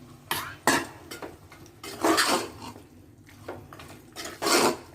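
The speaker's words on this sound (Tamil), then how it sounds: "இந்த மட்டனை போட்டு நம்ம நல்லா பெரட்டணுங்க" Half a kilo of cleaned mutton stirred in a cooking pot with fried ginger-garlic, a spoon scraping and clattering against the metal in uneven bursts, close and fairly loud with quiet pauses between.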